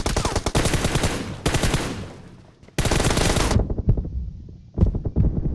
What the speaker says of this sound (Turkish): Böyle mermi atma şekli var mı ya aga?